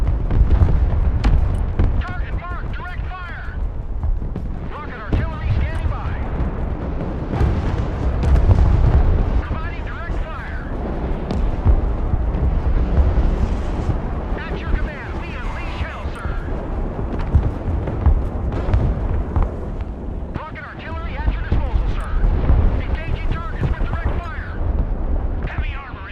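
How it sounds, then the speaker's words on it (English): Rocket artillery from an MLRS launcher firing with repeated explosions in the war game Broken Arrow, a dense continuous rumble of booms and blasts lasting throughout, with voices talking over the battle noise. "Rocket artillery at your orders, sir. MLRS ready to fire."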